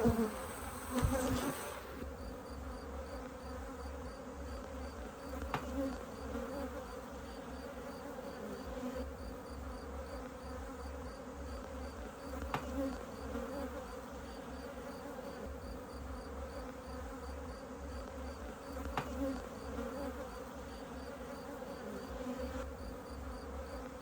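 Honeybees hum steadily around a breeding hive as a comb is shaken during queen rearing, a dense, continuous buzz that stays close and even, with occasional light knocks and handling sounds and no talking.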